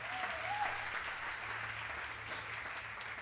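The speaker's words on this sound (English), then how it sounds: "Give them a round of applause, if you will." Steady audience applause at a televised insurance apprentice finale ceremony, a dense even wash of clapping held at moderate level for a few seconds, with a faint voice trace near the start.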